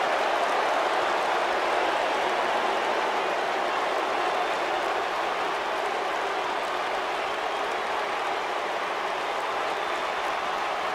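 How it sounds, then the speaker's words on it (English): Arena crowd in the WWE 2K19 wrestling game fills the whole stretch with a steady, loud roar of cheering before an Asuka versus Mandy Rose match at Fastlane, with no talk over it. "And Michael, it sounds to me like this crowd already picked the one who they want to win this match."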